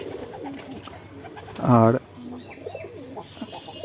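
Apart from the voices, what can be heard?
pigeons cooing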